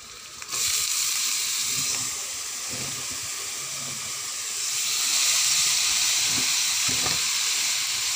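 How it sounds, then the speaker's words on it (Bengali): Chopped radish greens drop into a hot pan of fried shrimp and set off a sudden loud hiss. The sizzle holds steady and swells again, with occasional stirring clatter nearby. "এখন আমি এর ভিতরে মূলা শাক দিয়ে দেব।"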